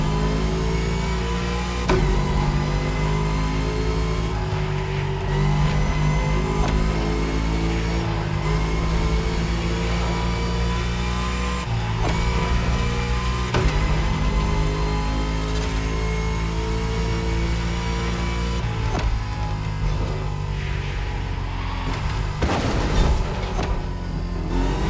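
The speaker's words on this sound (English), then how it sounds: "Now you can let the supercharged V8 do the talking." Supercharged V8 of a Shelby GT500 in The Crew Motorfest, driven along a winding road: a steady loud engine drone with harmonic tones that rise and fall as it revs and shifts, continuous and up close, with no talk.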